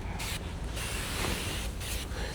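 Glass cleaner misted onto the door skin of a 2003-2009 Toyota 4Runner during a vinyl install, a steady close hiss running continuously with slight surges.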